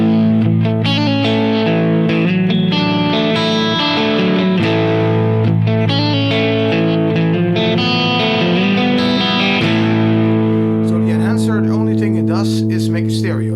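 Distorted electric guitar playing a sustained chord progression with a stereo enhancer effect bypassed, steady and loud throughout, with a dry, centered sound and some brighter picked notes near the end.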